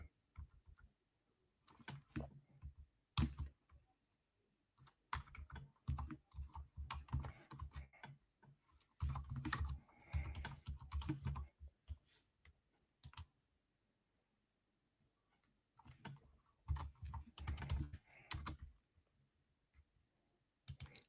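Irregular bursts of clicking keystrokes on a computer keyboard, close and fairly quiet, broken by short pauses, with no talking.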